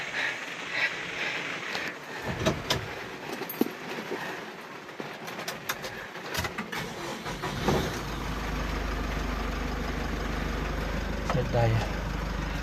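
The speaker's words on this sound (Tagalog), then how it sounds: "Painitin muna natin yung makina." A Mitsubishi L300 van's engine starts and settles into a steady low idle to warm up on a rainy day, rumbling close by, while someone talks over the early part.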